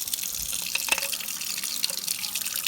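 Tap water splashes and trickles to rinse vinegar off rusty metal in a jar, a steady close hiss of running water with small drips and clinks.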